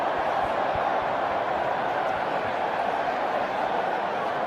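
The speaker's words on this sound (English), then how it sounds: "the crowd are just working their way up towards a bit of a Mexican wave, because they are having a fun time here at Twickenham this afternoon" A large stadium crowd at Twickenham during a women's rugby match, South Africa against the Barbarians, makes a broad, continuous roar of massed voices, steady and distant, with no single sound standing out.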